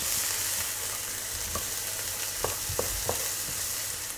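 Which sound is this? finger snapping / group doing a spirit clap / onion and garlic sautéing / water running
onion and garlic sautéing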